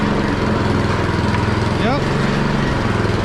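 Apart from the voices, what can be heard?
Troy-Bilt snow blower drive running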